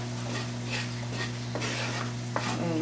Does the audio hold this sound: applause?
no